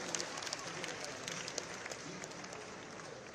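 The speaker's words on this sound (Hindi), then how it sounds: "मैं चाहूँगा एक बार बहुत जोरदार तालियों से इनका सम्मान यहाँ पर करना चाहूँगा" At a National Sports Day event in Dehradun, an audience claps to honour an athlete, a faint, distant patter of many hands with a few sharper claps standing out.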